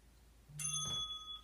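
A single bright bell chime rings out clearly and lingers briefly with a sustained ringing tone in a quiet room.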